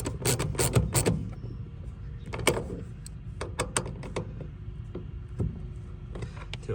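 Nut being tightened on an underseat storage bracket bolt during a Ford truck installation, with a run of sharp metallic clicks and ratcheting ticks, close and fairly loud, some in quick bursts and others spaced apart.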